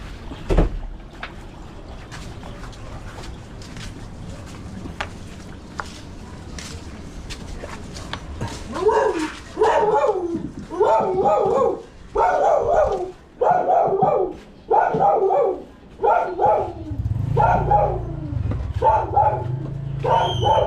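A dog barks in a series of sharp, close barks and yips indoors, coming in rhythmic bursts after a quieter stretch, with people talking nearby.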